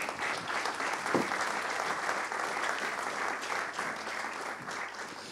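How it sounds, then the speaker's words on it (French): Steady applause from a conference audience thanking four panelists, a continuous even patter of many hands clapping at moderate distance, fairly soft, with no talking over it. "merci à tous les 4, on peut les applaudir"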